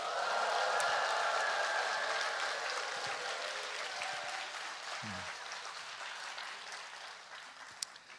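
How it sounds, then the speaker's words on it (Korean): A church congregation applauds and cheers, a broad wash of clapping with raised voices that starts strong and slowly thins and fades toward the end. "큰 환호성과 함께 박수 올려드리겠습니다."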